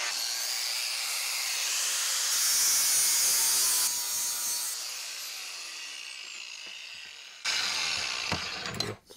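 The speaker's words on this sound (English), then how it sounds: "I can just grind." A DeWalt grinder works metal held in a bench vise whose jaws need replacing, a steady loud abrasive whine that swells and eases, then a sharper burst near the end.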